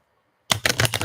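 Tarot cards riffled and shuffled during a reading, starting abruptly after a brief silence and continuing as a close, dense run of papery bursts with no talking.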